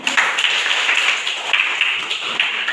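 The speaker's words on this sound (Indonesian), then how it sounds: "tepuk tangan" A school class clapping their hands in a junior high classroom, a brisk burst of many hands clapping together at moderate loudness, steady throughout with no talk over it.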